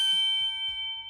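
A notification bell ding sound effect rings out as a bright, sustained chime with a steady tone that holds for about a second, clear and alone with no voices.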